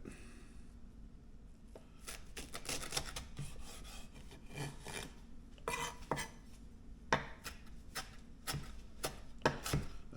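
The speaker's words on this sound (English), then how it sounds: "The next thing I'm going to do is chop some fresh parsley." A knife chops fresh parsley rapidly on a cutting board, crisp irregular taps close by, growing denser and more rhythmic as the chopping goes on.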